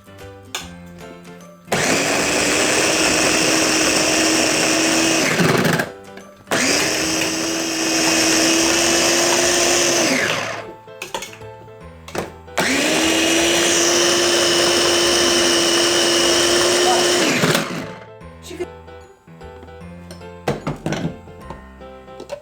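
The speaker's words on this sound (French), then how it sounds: "Voilà, on va hacher les oignons." Onions whizzed in an electric chopper for chicken pastillas: three loud, close whirring bursts of a few seconds each, separated by short pauses with small clunks.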